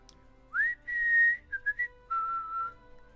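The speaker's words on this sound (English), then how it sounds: "I keep humming or whistling the theme from the wedding, the dance at the wedding, the waltz." A person whistles a short waltz melody from a wedding dance scene in Lord of the Rings Online: a rising opening note, a held tone, three quick notes, then a final sustained phrase, clear and close with no talking.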